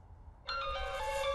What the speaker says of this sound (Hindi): अरे भाई का फोन आ रहा है यार।